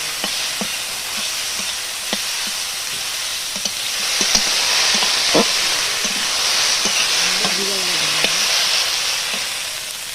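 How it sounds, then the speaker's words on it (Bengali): A chilli, ginger and cumin paste fries with figs, prawns and potatoes in a pan. It makes a continuous hissing sizzle with scattered clicks of stirring, swelling a little louder midway. "এবার আমি এই যে লঙ্কা আদা জিরে বাটাটা দিয়ে দিচ্ছি।"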